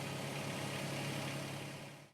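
A John Deere 2653B mower engine runs at a steady idle, a constant low hum with a faint engine tone throughout, cutting off abruptly at the end.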